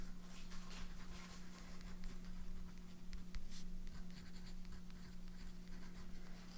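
A fountain pen nib loaded with very wet ink scratches steadily across paper, a close, continuous soft scratching under a faint background hum.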